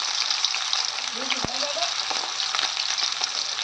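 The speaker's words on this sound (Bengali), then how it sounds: "দেখো, মাছ কিন্তু ভাজা শুরু করে দিয়েছি বন্ধুরা।" Fish frying in hot oil in a Bengali home kitchen for a mustard-paste fish curry, a steady close hiss of sizzling with a brief stir and faint voice partway through.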